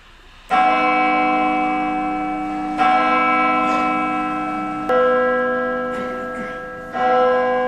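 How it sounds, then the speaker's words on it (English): A tolling bell sound effect in a high school stage production of Macbeth strikes four times, each loud ringing stroke left to decay slowly before the next, with no voices over it. "The bell invites me."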